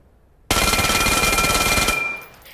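PM9 Uzi automatic pistol in the VR shooter Vail: a sustained, loud, close burst of rapid automatic fire lasting about a second and a half, starting abruptly and ending with a brief fading ring, no voices.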